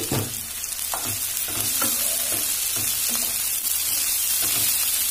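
Capsicum sizzles in hot oil in a pan, a continuous close frying hiss broken by regular scraping stirs of a spatula, with no talking.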